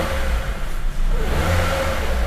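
A Honda HR-V engine on standard throttle response is blipped in place, a close mid-pitched rev that rises, dips briefly and swells again, loud and alone without talk.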